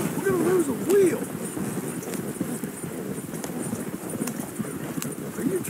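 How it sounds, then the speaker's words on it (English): Horses' hooves clip-clop at a steady, brisk pace in the video game Red Dead Redemption 2, pulling what sounds like a wagon, with the rhythmic clopping running throughout at moderate volume beneath voices talking. "Are you trying to kill those horses?"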